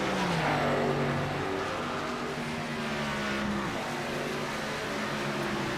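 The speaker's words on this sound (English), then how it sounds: "Hear those cars rip by." Race cars roar past in a racing video game at Nashville Superspeedway, engines whining with sweeping pitch changes as they pass, loud and continuous with no talking.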